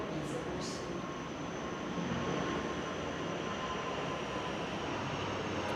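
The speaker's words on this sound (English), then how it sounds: "Use the sound of the airplane to set your mind." Steady airplane engine drone, a continuous broad roaring rumble that stays even and loud throughout, with no voices over it.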